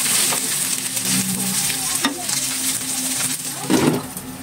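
Corn kernels toast in a hot pan for chop suey, a close, steady sizzle with stirring scrapes and a sharp utensil tap against the pan, then a louder rush of frying near the end, with no talk.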